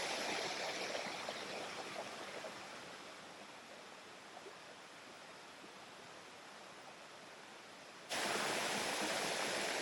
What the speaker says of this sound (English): Geary Lake Falls, 35 feet. It's the tallest waterfall in Kansas.